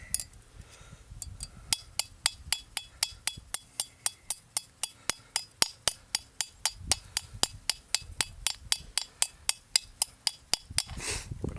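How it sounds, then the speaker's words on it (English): Copper sheet hammered by hand at an outdoor camp gathering, a long run of sharp metallic clinks struck at a steady quick pace, each ringing briefly, close and clear with no talk. "the hammer strokes need to be random, because if you do them too regular it looks more like a machine made thing"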